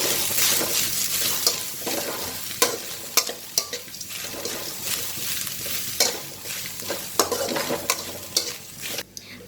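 Coconut and curry leaves frying in a pan for coconut rice give a steady sizzle, broken by sharp clinks and scrapes of a spoon stirring at close range, with no talking.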